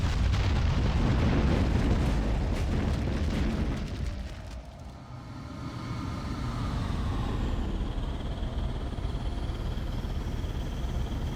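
A structure explodes in the Ground Control strategy game, a loud sustained rumbling blast that dips briefly then swells again into a long roaring low-end wash with lingering debris noise.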